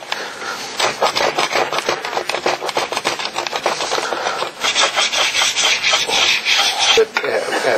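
Steel scraper drawn repeatedly along a repaired ski base in quick, rhythmic rasping strokes, close and steady for several seconds with no talking.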